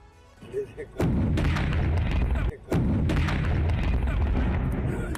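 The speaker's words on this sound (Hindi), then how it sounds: "जोरदार धमाके की आवाज आपने सुनी।" After a quiet murmur of voices, a loud grenade explosion bursts out in the open by a riverbank, followed by a brief dip and then a long, rolling roar with crackling debris.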